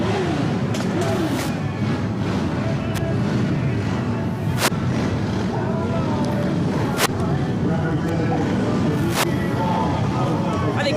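Motorcycles at a July 4th parade in Newton Falls rev their engines loudly and pass by, with roaring bursts and sharp pops over a crowd murmur, and people talk in between.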